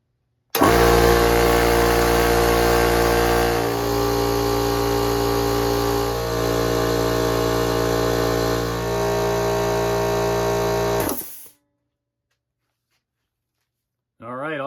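A Craftsman 1HP 7-gallon air compressor, recovered from trash day, runs loud and steady at close range for about eleven seconds with a constant mechanical drone, then shuts off into silence.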